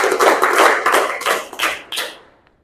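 A class claps out a rhythmic teacher-led pattern in a classroom, a few crisp, close group claps in quick bursts that end abruptly and fade to quiet.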